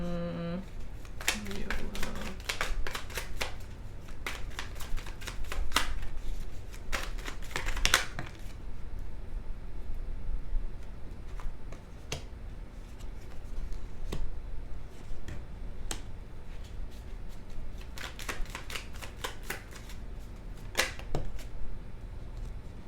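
Tarot cards are shuffled in rapid, crisp riffling bursts with fluttering clicks that start and stop in clusters, while a voice talks in between.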